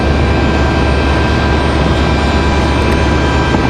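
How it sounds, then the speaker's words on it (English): Jet engines idle steadily on a JetBlue airliner in older livery waiting to push back at Raleigh-Durham International Airport, a loud, constant roar with a droning hum and no voices. "JetBlue with that old livery about to push back."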